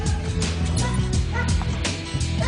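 A rubble search dog barks and yips close by in a series of excited, repeated woofs, with a whining edge between barks and a voice calling over it.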